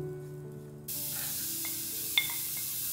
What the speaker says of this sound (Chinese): 锅内加入适量的橄榄油，倒入刚刚备好的杏鲍菇和红萝卜